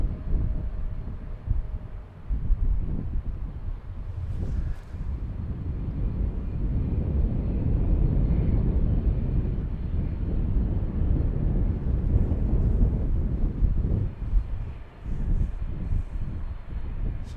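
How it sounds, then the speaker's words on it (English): KLM Boeing 777-300 airliner landing on runway 18R at Amsterdam Schiphol, a deep sustained jet engine roar that swells and holds loud for many seconds, with wind buffeting the microphone outdoors. "777 from Sao Paulo, the 300, is landing on this runway"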